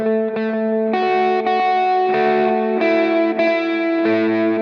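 Electric guitar lead riff played at a slower pace through distortion and chorus, distinct picked notes arriving one after another with clear attacks, loud and unaccompanied.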